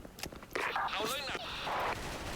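FN FAL rifle fire in a first-person shooter game, a few sharp reports sounding close against a busy game soundscape, with noisy bursts and a sweeping effect mid-clip.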